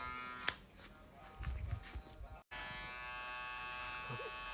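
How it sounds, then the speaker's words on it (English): Supreme Trimmer electric hair clipper cutting a man's hair clipper-over-comb at a barbershop, a steady close buzz with brief louder bursts as the blades pass through hair, cut off by a short dropout before the hum resumes. "We're just gonna clip over comb this hair"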